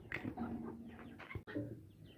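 Chickens clucking close by, a busy mix of short calls and cackles with brief chirps, continuous over a few seconds.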